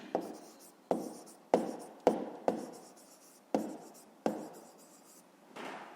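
A pen or pencil writes out a school math answer on paper in a series of short scratchy strokes, each starting with a sharp tap and fading, with quiet pauses between them.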